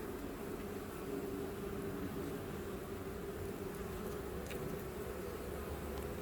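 Honey bees buzz steadily around an open hive during an inspection, a dense, continuous drone close by with no talking.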